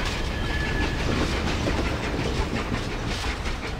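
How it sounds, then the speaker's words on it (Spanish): Train pulling into Vilagarcía station, a steady loud rumble of rolling wagons with rhythmic clickety-clack over the rails and a faint high squeal, continuous and close throughout. "El tren llega a Vila García"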